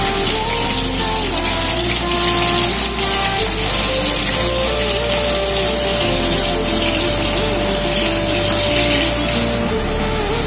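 The remaining battered chicken pieces fry in oil with a loud, unbroken sizzle and hiss that stays even throughout, alongside faint background music.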